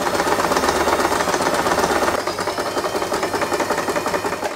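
A sewing machine stitches a fabric hairband, running continuously with a close, rapid mechanical chatter that shifts slightly in tone partway through.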